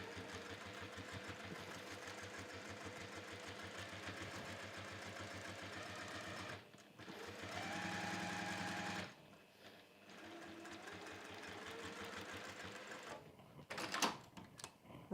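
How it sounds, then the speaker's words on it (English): Close, continuous rattling stitches from a sewing machine top stitching a velvet and cork pouch run steadily for several seconds, pause briefly, resume, then trail off into handling noises. "Now I'm just top stitching"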